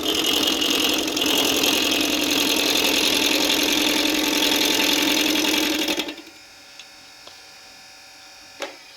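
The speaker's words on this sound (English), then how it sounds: "This is a variable speed lathe. You can see we're at about 380 RPM here" A variable speed lathe turning at about 380 RPM while wood is roughed into a circle for a homemade slate turkey call, with a loud steady whir for six seconds that then cuts off, leaving faint taps.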